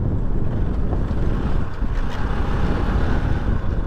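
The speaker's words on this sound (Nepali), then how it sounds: "तातो चिसो हावा खाँदै बाइक कुदाउनुको मजा नै छुट्टै आउँछ है" Steady, loud wind roaring across the microphone while riding a motorbike on the road from Dang to Nepalgunj, a continuous buffeting rush with no pauses and no voices.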